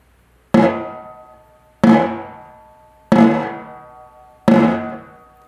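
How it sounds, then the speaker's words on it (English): Snare drum buzz pressed too hard, giving a short zippery rattle: four separate buzzes at an even pace, each a sharp hit that dies away quickly, close and alone. "If you press too hard, you get a very zippery kind of buzz."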